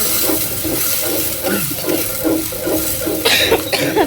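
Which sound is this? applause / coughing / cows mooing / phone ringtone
coughing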